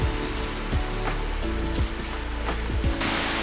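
Waves at Black Sand Beach in Iceland, where sneaker waves strike on a gloomy day, roll into a continuous broadband surf roar with repeated low thumps as breakers hit the shore.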